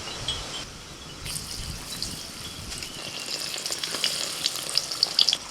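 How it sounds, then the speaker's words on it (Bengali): Pumpkin pieces dropped one by one into hot oil, a steady sizzle and bubbling that grows busier and louder toward the end, with faint crackles and pops. "তেল গরম হয়ে গেছে, এবার একটা একটা করে কুমড়ো নিয়ে ছেড়ে দিচ্ছি।"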